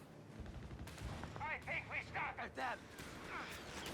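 Machine gun fire in the Company of Heroes 3 strategy game crackles as a series of rapid bursts under steady commentator talk, with distant battle noise behind.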